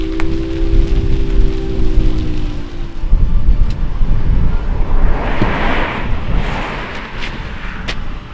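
Steady, heavy rain pours down in Northern Norway across the whole stretch, a dense hiss with low rumbling underneath and brief brighter spatters toward the end.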